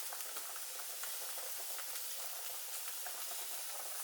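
Salmon searing in a hot pan, producing a continuous, bright crackling sizzle with a steady level and fine popping throughout, fairly quiet overall and without any talking.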